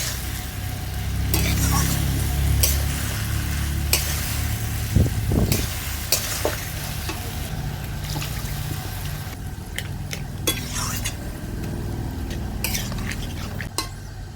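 A spoon scrapes and clatters against a pan as pui shak with a fish head is stirred after water is added, with a soft sizzle running underneath and occasional sharper knocks of metal.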